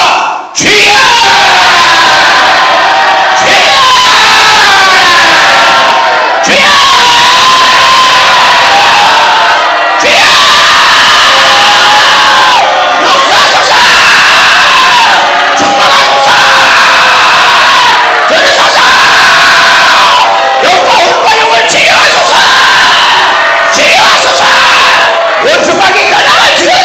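A church congregation at a healing revival meeting in Sisophon, Cambodia, cries out loudly and continuously in a dense roar of voices, with several surging shouts that rise and break over about half a minute.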